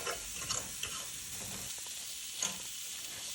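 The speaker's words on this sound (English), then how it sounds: "we're just gonna let that cook down, simmer down, occasionally moving them around." Steak and vegetables simmering in an uncovered pan, giving a faint, steady sizzle and crackle with a couple of brief ticks and clinks, heard alone and close.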